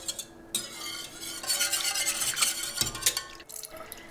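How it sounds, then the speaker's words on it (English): A whisk stirring yogurt starter into about a liter of milk to break up lumps: quick, close, irregular scraping and swishing strokes with small clinks and liquid sloshing, and no voice. "I'm using a whisk to just break up the lumps"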